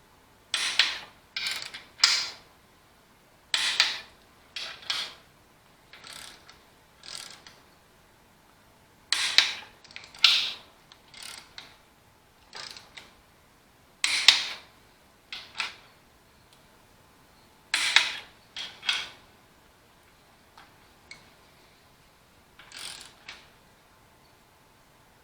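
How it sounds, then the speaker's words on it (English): Torque wrench tightening engine bolts to spec on an Allis Chalmers WD45 tractor engine during restoration, a series of close, sharp ratcheting clicks in short bursts separated by pauses, with no talking. "When I'm torquing stuff down, I usually go half the level and hit them once and then go and set it."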